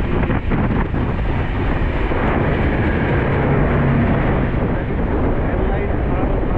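Sealdah–Jammu Tawi Humsafar Express running near Asansol, a steady broadband rumble of the moving train with wind buffeting, loud and continuous throughout.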